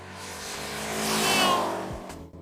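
A Dodge Neon SRT-4 with a relatively small engine accelerates hard, its engine note rising and swelling to a peak mid-clip before easing off, loud and close with no talk.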